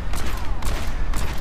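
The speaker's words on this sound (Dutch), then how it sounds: "Gewoon een paar schoten met zijn pistool." A quick run of sharp pistol shots from McCree in Overwatch, three close bursts about half a second apart, over a steady game soundtrack rumble.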